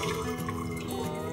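Boiled water is poured into a pot of homemade beef and vegetable soup, giving a close, continuous liquid pour with bubbling and trickling texture throughout and no talk.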